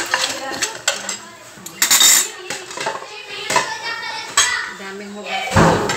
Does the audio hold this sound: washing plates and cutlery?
yes